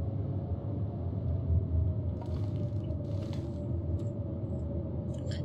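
Howling storm wind in the survival video game The Long Dark, a steady, dense roar that fills the whole clip with low rumble, with faint gusting hiss on top and no voices.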